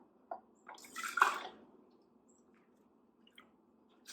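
Homemade vegetable stock is ladled into jars in a home kitchen, giving a few soft pours, splashes and drips, the main pour about a second long and near, with quiet gaps between.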